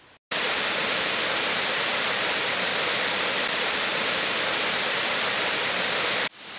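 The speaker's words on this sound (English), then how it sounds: "here we have the spectacular waterfall of the Rhyadr V, or the Black Waterfall" Black Waterfall (Rhaeadr Du) pours down a rocky chute in upland oakwood, a loud, steady, broadband roar of rushing water that holds constant throughout, beginning and ending abruptly.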